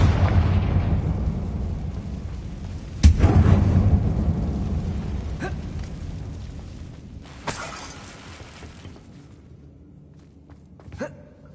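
Confringo explosion spells in Hogwarts Legacy: a sharp blast near the three-second mark with a decaying roar, then smaller bursts later, each fading into quiet.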